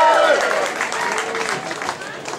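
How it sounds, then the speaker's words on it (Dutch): An audience applauds a guest named Pit, a moderate crowd clapping in a blended wash with voices and tonal chatter over it, fading slightly toward the end. "Mag ik een applaus op Pit?"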